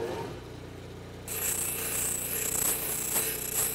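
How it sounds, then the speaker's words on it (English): A power sander whirs on abruptly after a moment of quieter hum, running steadily with a bright, hissing grind as it smooths and flattens a piece of wood. "flatten one side over on the sander"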